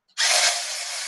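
A hand blender fitted with a whisk attachment beats egg whites for gluten-free cooking, starting abruptly and running as a loud, steady high whir close to the microphone.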